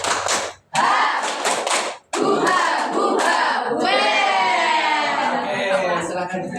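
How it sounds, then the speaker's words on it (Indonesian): A classroom of students shouts a rhythmic spirit clap chant together, loud group voices punctuated by sharp claps, with a brief pause before a second, longer round of chanting and clapping. "Lagi ya. Iya. Tepuk semangat Velocity."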